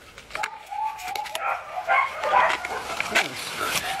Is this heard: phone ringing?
no